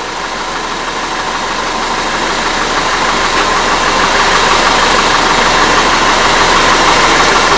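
Audi Q5 engine idling in a repair shop after a misfire check, a steady close-up mechanical hum and rattle that stays even and loud, with no voices.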